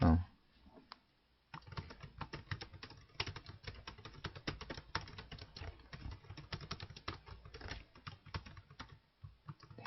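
Rapid typing on a computer keyboard with dense, irregular key clicks and a heavier press near the start, close and steady for most of the stretch, with a soft voice faintly underneath.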